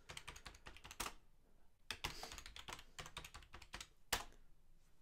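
An administrator password being typed on a computer keyboard: quick, close, fairly quiet key clicks in uneven bursts, with a few louder strikes standing out.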